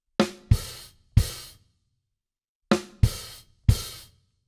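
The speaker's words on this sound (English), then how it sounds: "two open hi-hats on the three E and the A. Sounds like this." On a drum kit, two short groups of three sharp hits ring out, with open hi-hats splashing in a fill alongside low thumps. Each hit is loud and close and decays quickly.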